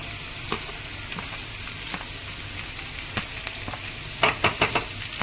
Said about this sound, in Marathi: आपण याच्यात टाकूया हे जे आपण सगळं बारीक चिरून घेतलं होतं, लसूण,